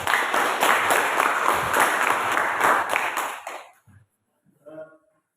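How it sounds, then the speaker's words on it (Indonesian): Classroom applause from students in a biology lesson, several seconds of loud clapping that stops abruptly, followed by brief quiet sounds. "Kita tepuk tangan."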